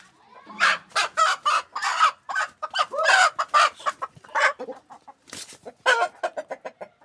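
Chickens and a rooster in a yard scratching up the ground cluck loudly and close by in rapid, irregular bursts, with short pauses between the calls.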